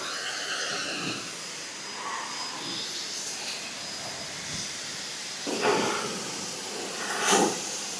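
A Greenworks pressure washer sprays down a dirty truck, producing a steady, fairly quiet broadband hiss of water spray that runs throughout with a few brief louder surges near the end.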